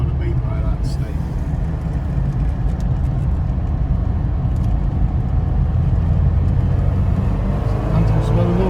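A 1979 Ford Capri 1.6 GL Mk 3 drives along with a steady, loud engine drone and road roar that stays constant throughout, without obvious gear changes.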